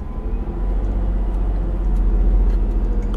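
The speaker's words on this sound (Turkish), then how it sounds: "Şimdi burada retarder salıyor kendini." A heavy truck's retarder engages while the truck descends a long downhill ramp, producing a steady, loud, low engine-like drone that holds evenly throughout with no voices.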